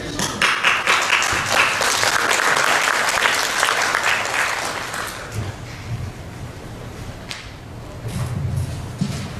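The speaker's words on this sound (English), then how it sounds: "So a round of applause, please, for Shawn." Large conference audience applauds in a dense, loud wash of clapping for the SVC Wireless president at the 2013 annual event, swelling strongly then thinning to scattered claps before a brief renewed burst at the end.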